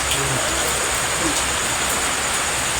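Rain falls in a steady, dense hiss that holds at an even level throughout, with no clear pauses or distinct drops standing out.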